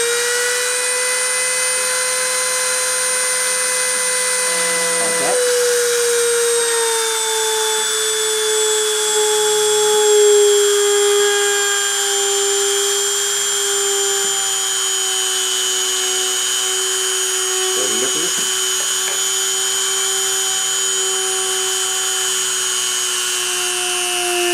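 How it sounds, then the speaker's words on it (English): On a deposition machine, the spindle runs during surface deposition with a plunge in Z, holding a loud, steady, close whine rich in overtones. Its pitch sags slightly early on, and faint knocks sound underneath. "So with no further ado, I'm going to start the spindle and start the deposition."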